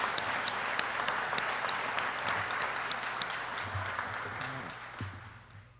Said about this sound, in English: can we have one more round of applause for the citizens who are not paid to do what they did?